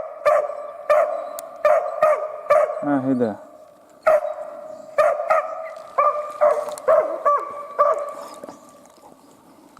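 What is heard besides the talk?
dog barking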